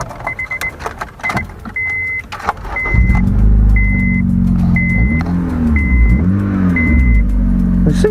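A Honda Civic with front bumper damage starts at a Copart salvage auction yard after a few clicks and a repeating chime, then idles loudly and steadily with a deep exhaust note and a couple of brief revs.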